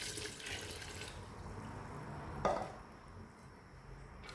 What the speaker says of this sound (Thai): ใส่น้ำดื่มสะอาดลงไปค